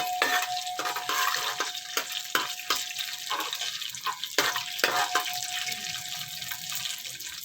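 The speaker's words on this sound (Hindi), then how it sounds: "दो 3 मिनट इसको भून के इसकी जब अच्छी सी खुशबू आ जाएगी" Vermicelli being dry-roasted in a pan for colored sweet seviyan, with repeated scraping and stirring strokes over a faint sizzle and a steady kitchen hum, close and fairly loud.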